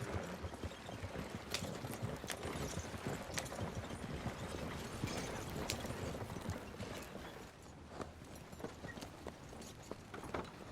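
Horse hooves clip-clop steadily as a horse-drawn wagon rolls along in the game Red Dead Redemption 2, a continuous rhythmic clatter with faint creaking mechanism beneath, fairly quiet and with no talking.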